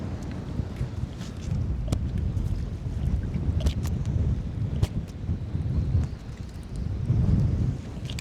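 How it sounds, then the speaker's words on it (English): Strong wind gusting across open water while fishing from a kayak, a continuous rumbling buffet on the microphone with surging gusts and occasional knocks, no voices. "It's just super hard to fish in all this wind."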